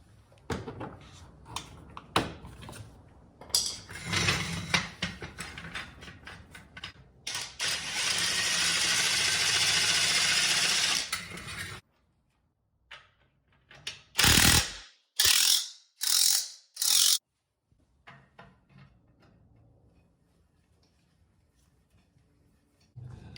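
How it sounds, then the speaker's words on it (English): A 10-ton car jack works under a Rivian R1S during a tire rotation, with rapid ratcheting clicks and a whirring tool buzz, then a silence followed by several loud separate mechanical bursts. "This jack is the one I got, 10-ton jack."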